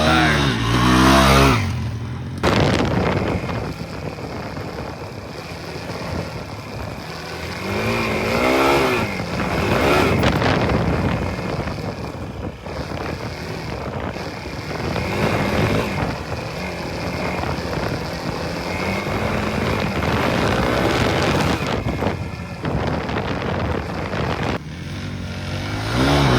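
A car launches on a timed drag run, its engine roaring loud and close for the whole stretch. The pitch climbs through repeated gear-change sweeps without letting up.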